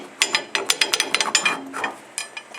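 A bolt passed through a drilled and tapped metal part is ratcheted tight, giving a quick series of sharp clicking pulls close by, with a brief pause before a final few clicks.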